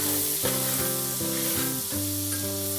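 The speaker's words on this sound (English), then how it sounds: "So we want to just saute it in with this butter and let the onions sweat a little bit" Onions and garlic sauté in butter in a pan, making a soft, even sizzle that sits under steady background music with changing chords.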